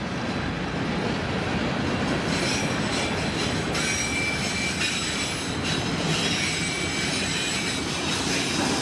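A train rolls steadily past close by, its wheels rumbling continuously with intermittent high squeals and clicking over the rail joints, loud throughout with no pause.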